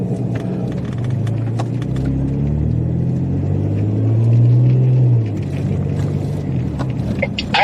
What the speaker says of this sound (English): My car sounds like it's gonna freaking explode when it's idling.